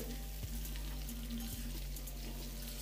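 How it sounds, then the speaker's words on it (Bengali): Soft, steady sizzling of capsicum frying in a pan, low and continuous with a couple of faint clinks. "ক্যাপসিকামটা তাড়াতাড়ি এটা ভাজা হয়ে যাবে"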